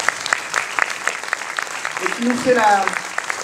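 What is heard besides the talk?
applause for the actress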